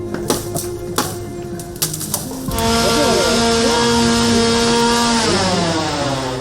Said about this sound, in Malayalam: ഫയർഫോഴ്സ് എത്തി മരങ്ങൾ പൂർണ്ണമായും മുറിച്ചു നീക്കി